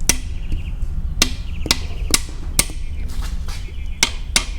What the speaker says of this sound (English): I'm applying upward pressure while Elana hits it with a hammer.